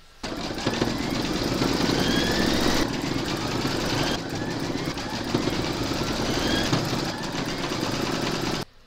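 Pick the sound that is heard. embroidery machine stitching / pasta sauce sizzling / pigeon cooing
embroidery machine stitching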